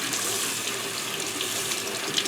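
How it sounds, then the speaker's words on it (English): A sink tap pours a steady, close stream of water as dyed yarn is rinsed a second time, a continuous splashing rush with no speech. "I'm going to rinse it again here and see how much more stuff comes out."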